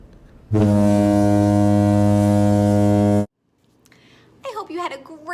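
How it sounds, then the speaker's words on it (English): A tugboat horn gives one long, steady, loud blast of about three seconds with a rich buzzing low tone, then stops abruptly; faint background noise and a brief voice follow. "A tugboat."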